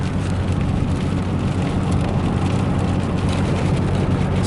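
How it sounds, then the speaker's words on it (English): Steady rain falling outside a car on a Friday afternoon, a dense continuous hiss and patter with no break, fairly loud and close. "And then it starts raining out here."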